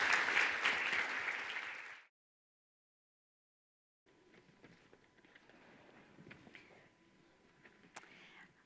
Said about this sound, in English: can we give yourselves a round of applause for the hard work you gave in those workshops?